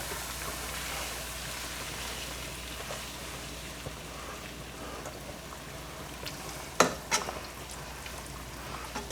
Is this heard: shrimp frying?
yes